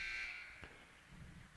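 A basketball game buzzer sounds at the end of the first half of a women's college game, a loud, steady electronic tone that cuts off after about a third of a second, followed by quieter arena noise.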